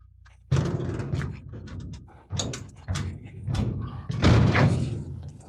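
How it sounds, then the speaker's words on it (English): Construction work from lakefront building nearby gives a run of irregular thumps, bangs and clatter at moderate volume, with louder knocks toward the end and no clear speech. "There's some construction to the left of us, building a new lakefront over there."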